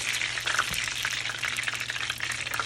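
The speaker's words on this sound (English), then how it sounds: "frying up in some healthy olive oil." Duck dumplings frying in olive oil, a dense continuous sizzle and crackle held at steady loudness, close and alone with no talking.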